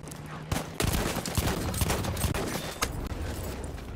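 M97 Sweeper shotgun blasts from Battlefield 1, several loud close booms at irregular intervals over continuous battlefield din and crackling gunfire.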